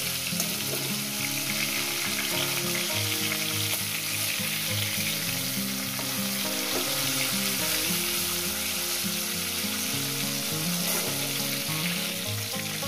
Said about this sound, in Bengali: মাছটা আমার ভাজা হয়ে গেছে, মাছটা উল্টে দেবো।